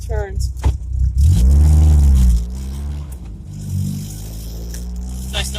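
A 1974 MG Midget 1275 revs up hard while driving, its engine note climbing and falling over a couple of seconds before settling to a steadier drone, close and loud with a brief voice near the start.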